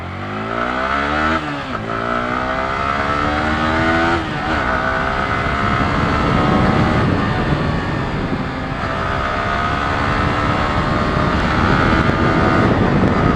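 A 2025 Yamaha R15M MotoGP Edition motorcycle engine revs hard from first gear and climbs through the gears, its pitch rising repeatedly with short dips at each shift, loud, close and steady, with no talk.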